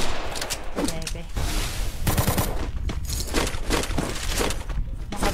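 Rapid sniper and automatic gunfire in a video game, a dense series of sharp cracking shots in irregular bursts, loud and close, with occasional talk mixed in.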